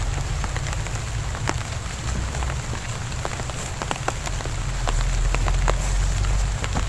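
Steady rain falls outdoors, a dense close hiss with scattered louder drops pattering on a surface, continuous and fairly loud throughout with no voices.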